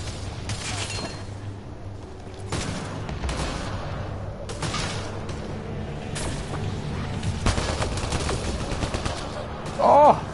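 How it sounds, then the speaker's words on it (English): Sustained gunfire in Mass Effect Andromeda, a dense stream of rapid shots over a continuous game soundscape with a voice speaking briefly near the end. "I'm shooting everything now."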